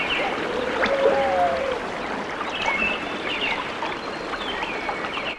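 A gentle river stream flows steadily at a riverbank, soft and continuous, with faint birdsong and chirps layered over the water's hiss.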